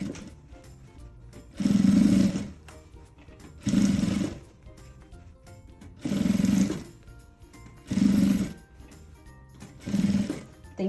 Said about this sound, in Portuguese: E já começo a passar a costura.